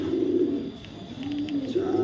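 Club racing pigeons coo in low, rolling phrases close by, two or three throaty calls spread over a couple of seconds with faint background noise.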